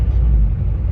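A 1966 Porsche 912 engine running with a deep, steady rumble, close and fairly loud, heard only briefly.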